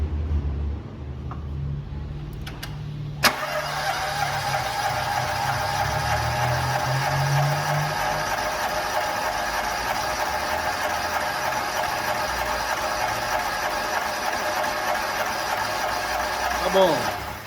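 VW Gol G6 engine cranking with a compression gauge fitted to the third cylinder, a steady, loud, continuous starter whir held for many seconds after a brief click, with a voice at the start.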